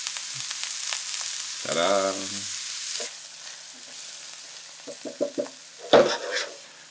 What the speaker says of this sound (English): I'm going to throw the onions in here.